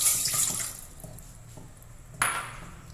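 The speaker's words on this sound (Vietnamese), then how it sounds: "Các bạn cho mình một cái nồi lên bếp và mình sẽ cho bắt nước vào nhé." Water from a tap runs into a pot in a home kitchen, a steady close splashing stream with a sudden louder burst near the end.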